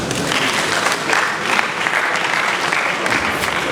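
A large audience at a university convocation ceremony claps steadily and densely, a continuous close wash of applause that holds at an even level throughout.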